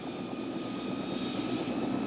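Bell OH-58 helicopter turbine engine with the throttle rolled up to full, giving a steady, loud, continuous whine and rumble with high tonal lines, close by and alone.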